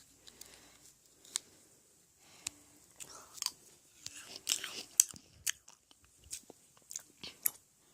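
Crunchy bites and chewing of shaved ice bingsu with red bean, a series of short, close crackling crunches at an irregular pace, with quiet pauses between them.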